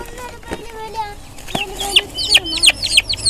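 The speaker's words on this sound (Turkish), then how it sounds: "Bunlar da Amerikan hindilerimiz. Bronz." American bronze turkey poults peep and chirp in quick, high, rising calls that grow busier toward the end, heard up close alongside a few lower clucking notes.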